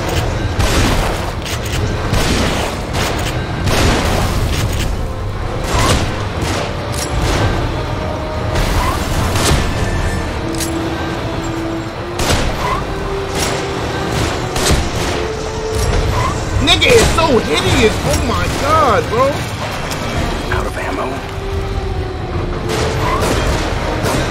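Gunfire in the horror game The Evil Within, repeated sharp shots and booming blasts scattered across a tense fight, loud and close, with a player talking throughout.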